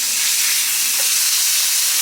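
Food sizzling while frying in a kitchen, a loud, dense, steady hiss close up that holds without pause.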